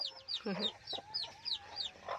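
Chickens cluck in a series of short, close calls, with a chick's higher peeps threaded through, at a steady, busy rhythm around a backyard flock.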